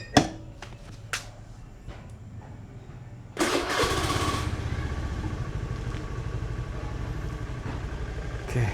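A 2014 Honda Beat FI scooter with about 30,000 km: a few sharp clicks and knocks, then the engine cranks and catches with a burst and settles into a steady running hum.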